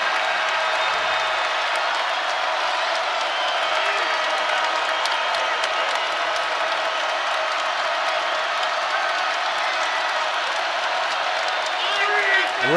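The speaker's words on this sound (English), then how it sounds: "The crowd is up. It is lit here in the Chrysler Center." A basketball crowd roars steadily inside the Chrysler Center during an NCAA women's tournament game between Villanova and Michigan, a dense sustained cheer with a commentator talking over it.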